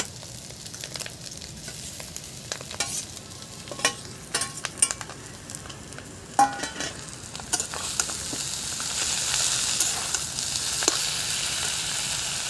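Drumstick leaves dropped into a pan already frying potato and egg, giving a steady sizzle with repeated stirring scrapes and clatters that grow into a louder, brighter frying hiss toward the end.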